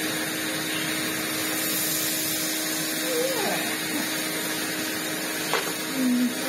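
A vacuum cleaner fitted with a hose and floor tool runs with a steady whining hum, broken by brief handling knocks and shifts in pitch near the end, with some faint voice in the background.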